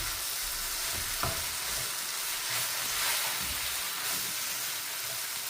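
Onions sautéing for Sri Lankan seeni sambal hiss with a steady, close broadband sizzle, broken by a few soft scrapes of stirring in the pan; no voices are heard.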